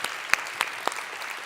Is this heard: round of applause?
yes